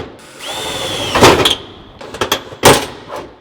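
A power drill runs in short bursts against a hard material, a whining motor rev followed by several loud grinding clatters and knocks, close and sharp, with brief pauses between bursts.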